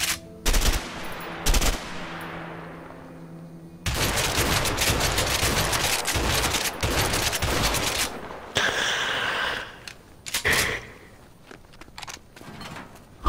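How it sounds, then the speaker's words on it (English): Repeated blasts from a pump-action shotgun in the video game A Way Out, loud and close, fired in uneven bursts with short gaps and ringing decay between shots. "Good old pump action. Stops anyone from coming at you."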